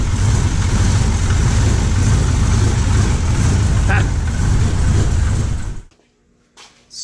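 A freshly installed LS engine idles in a 1938 Pontiac on its first start, a loud, steady, close rumble with a low throb that runs evenly, then cuts off abruptly, leaving near silence.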